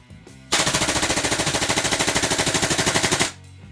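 An airsoft rifle fires 0.3 gram BBs in one long full-auto burst, a loud, rapid, even rattle of shots that lasts nearly three seconds and then stops abruptly, with no voices.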